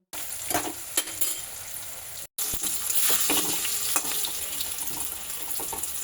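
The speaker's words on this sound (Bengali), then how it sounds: "দেখো আলুগুলো একদম লাল লাল করে ভাজা হচ্ছে" Potatoes frying in a pan for mutton curry, a steady close sizzle with occasional stirring knocks, briefly cut off once before the frying hiss resumes at a slightly fuller level.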